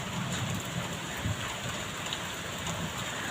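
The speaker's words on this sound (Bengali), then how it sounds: "বৃষ্টি পড়েই যাচ্ছে।" Steady rain falling in a dense, even hiss with no breaks, a soft constant wash heard at moderate distance and alone.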